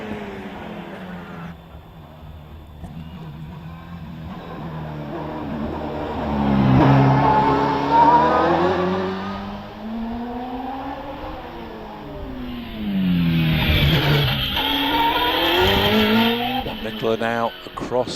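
A Gould GR55B race car with a 3.5-litre Nicholson McLaren V8 powering up a hillclimb course, the engine note rising and falling through gear changes and revs, loud and fairly close, with a commentator talking over it.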